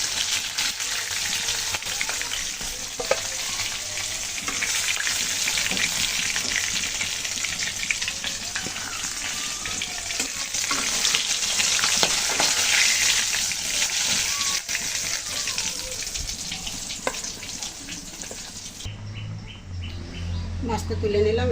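Pangas fish frying in hot oil in a pan, giving a steady, dense sizzle that runs continuously, with faint bird chirps in the background and a shift in the sound near the end as the fish is lifted out.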